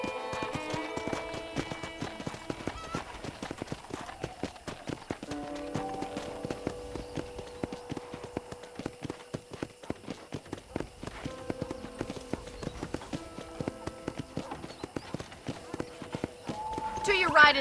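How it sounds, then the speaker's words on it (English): Horse hooves clip-clopping in a steady trotting rhythm while riding in the Red Dead Redemption video game, close and continuous under gentle music, with a brief whinny near the end. "let's see if you can still ride a horse."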